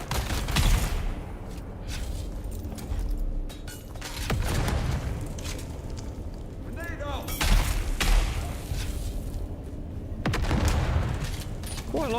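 Grenade blasts in Dune: Awakening, a series of heavy booming explosions and crackling bursts spaced a few seconds apart, loud and close, with voices talking between and under them.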